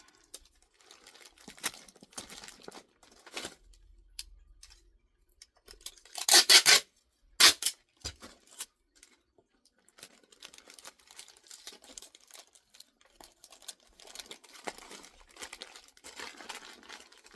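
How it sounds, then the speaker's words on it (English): Packing tape is pulled and pressed onto a package being sealed for mailing. Quiet rustling and crinkling are broken by two loud, sharp tearing bursts midway. "You got to tape it up."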